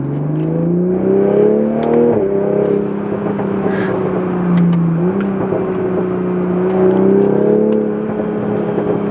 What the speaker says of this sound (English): We're going to put it into sport mode, do a quick acceleration.